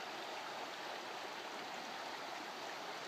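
Evolution Creek on the John Muir Trail rushes steadily at a hiker's crossing point, a dense, even broadband wash of flowing water with no voices.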